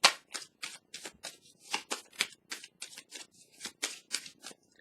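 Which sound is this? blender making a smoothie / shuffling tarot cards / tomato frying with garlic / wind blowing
shuffling tarot cards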